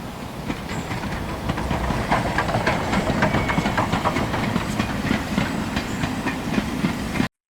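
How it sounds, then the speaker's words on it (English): A train rolls slowly past at close range, its wheels clattering in a steady, rough rhythm over a broad rumble and hiss, continuous and loud until it cuts off abruptly. "the actual sound of a train going slowly past the camera"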